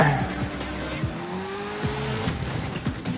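A race car in the Screamer video game brakes hard into a corner, with a loud engine drone and long tire squeals as it skids, repeating through the turns.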